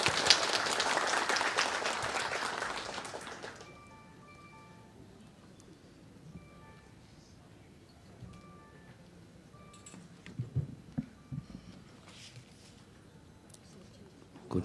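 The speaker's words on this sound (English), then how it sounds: "A warm of applause," A conference audience at an interreligious dialogue event in Songkhla province breaks into loud, dense applause that cuts off after a few seconds, followed by a quiet room with faint scattered noises.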